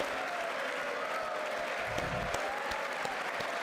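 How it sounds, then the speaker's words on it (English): Applause from a large audience at a State of the Union address, a dense, sustained wash of clapping with no voices over it. "I don't even know what I'm clapping for."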